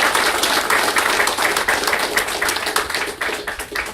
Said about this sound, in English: please help me to acknowledge with a rousing applause our honor and love for